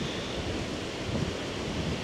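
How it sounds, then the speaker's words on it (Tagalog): Strong wind buffets the microphone on a sunny Boracay beach, a dense steady roar of rushing air with possible surf mixed in, continuous and close throughout. "Kaya lang grabe talaga yung hangin."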